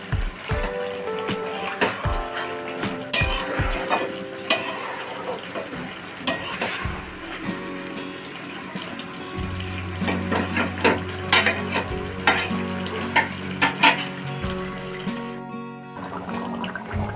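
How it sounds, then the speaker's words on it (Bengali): Chicken simmers and bubbles in the water it has released, with steady soft sizzling broken by repeated clinks and scrapes of stirring, close by and with no talk. "চিকেন থেকে প্রায় জল ছেড়ে দিয়েছে। এটা এখন ভালো করে সেদ্ধ হবে।"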